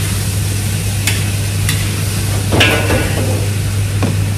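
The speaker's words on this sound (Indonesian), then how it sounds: "Ini kita bikin bumbu untuk nasi goreng." Seasoning paste for nasi goreng being stir-fried in a restaurant kitchen, a steady sizzle under a low constant hum, broken by a few sharp scraping and clanking strokes of the utensil against the pan.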